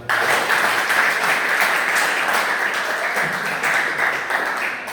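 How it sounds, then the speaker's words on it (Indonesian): A classroom of students applauding a classmate during a teaching session, loud close clapping from a group, dense and continuous before tapering slightly at the end. "Bagus, tepuk tangan dong"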